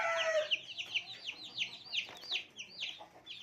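Newly hatched baladi chicks peep in rapid, overlapping high chirps under a turkey hen, with a few softer low clucks near the start, close by and fairly continuous.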